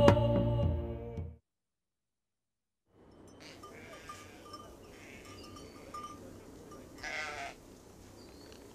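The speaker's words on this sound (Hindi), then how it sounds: "बकरियों को इकट्ठा करो, हम घर वापस जाएंगे।" A herd of goats bleating, with a loud close bleat at the start, then quieter scattered calls and faint clinks over a low rumbling ambience, with one more bleat near the end.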